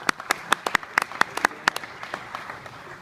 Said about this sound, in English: Give this guy a big applause.